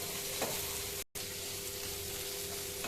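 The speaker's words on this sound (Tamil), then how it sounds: "இன்னும் கொஞ்சம் நேரம் நல்லா வதங்கட்டும்" Pirandai (adamant creeper) sautéing in a pan for chutney, a steady close sizzle of frying with a brief cut near the middle, no talking.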